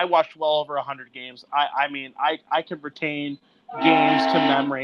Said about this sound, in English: This train in the background is so annoying